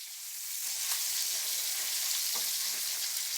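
Pancetta fat sizzling in a pan for carbonara, a steady close crackle and hiss with a few brief clinks, no talking.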